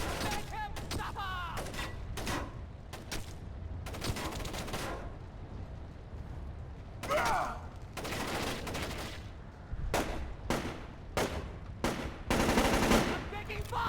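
Rapid bursts of automatic gunfire and single shots in the stealth video game Splinter Cell: Chaos Theory, loud and repeated in uneven volleys with brief lulls, with faint game voices mixed in.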